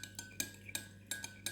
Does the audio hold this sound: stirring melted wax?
yes